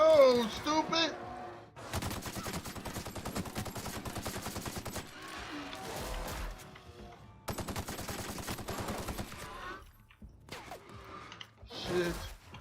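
Rapid bursts of automatic gunfire in The Outer Worlds crackle in several long volleys separated by short gaps, loud and close, with a brief gasp between them.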